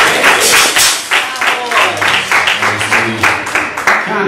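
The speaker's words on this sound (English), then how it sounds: "Let's give them a hand of applause." Congregation applause during a Sunday church service, a dense wash of many hands clapping steadily for about four seconds, loud and close, with scattered thumps and voices mixed in.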